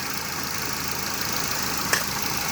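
A 1998 Ford Contour engine idles steadily at close range, a smooth, even drone with no talking, broken only by a brief faint click near the end.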